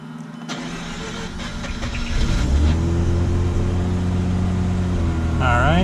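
A Mazda RX-8 rotary engine cranks and catches, settling into a loud, steady idle close by, with a rising whine near the end; a voice is briefly audible.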